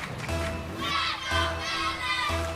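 An esports showcase crowd roars and shouts in bursts, a dense mass of young voices cheering loudly over pulsing arena music for a few seconds.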